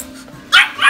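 A small teacup dog gives a couple of sharp, high yapping barks in the second half, close and loud after a quiet start.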